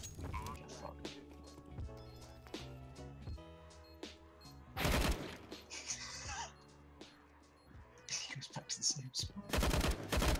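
Gunfire in the video game CS:GO: bursts of rapid shots and loud rattling volleys mixed with game noise, close and punchy, interrupted by quieter stretches.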